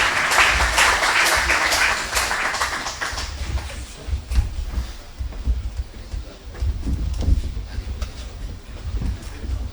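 Audience applause for the jury president at a Haitian high-school competition between Lycée Jacques Roumain and Lycée Antoine Isméry, a dense burst of clapping that fades after a few seconds into a lower murmur with scattered claps.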